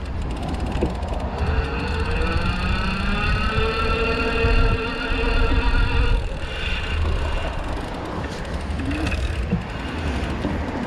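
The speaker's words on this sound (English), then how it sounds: "Let's go ahead and full throttle up the hill." EVELO Aurora hub-drive e-bike motor at full throttle climbing a hill, a rising electric whine with layered tones over constant wind and road rumble, heard up close.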